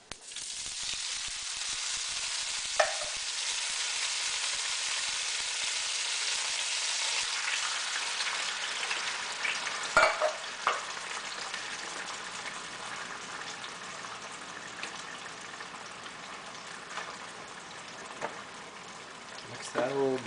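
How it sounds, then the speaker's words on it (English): Seafood sauce of canned diced tomatoes hissing and sizzling steadily in a pan, with a few brief clinks of stirring and faint talk underneath. "At this point, add the tomato sauce."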